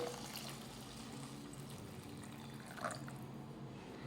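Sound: pouring hot water into pan

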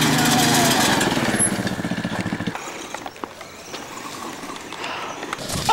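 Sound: go-kart engine

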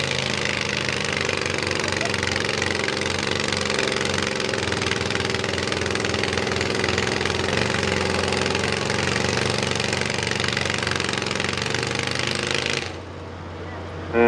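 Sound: John Deere garden tractor engine running at tractor pull

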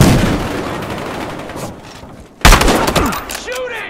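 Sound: gunfire in video game Battlefield Hardline

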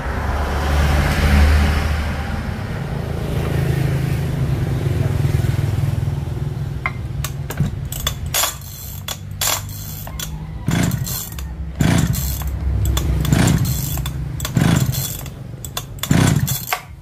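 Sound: chainsaw engine starting and running

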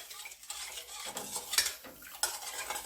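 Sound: stirring ingredients in a bowl

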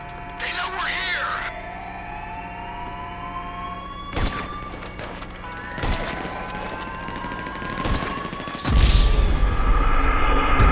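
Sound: gunfire in the video game GTA V

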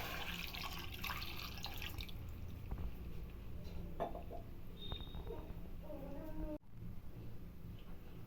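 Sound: water being poured into a pot

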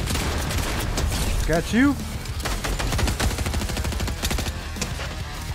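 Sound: gunfire from Fortnite video game

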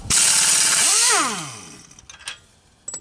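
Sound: air tool removing a bolt on a Honda Civic strut

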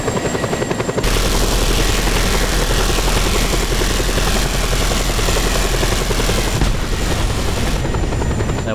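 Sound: helicopter in the video game Just Cause 2

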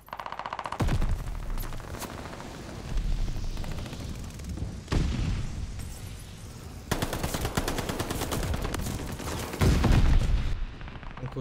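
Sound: gunfire in video game Call of Duty Vanguard

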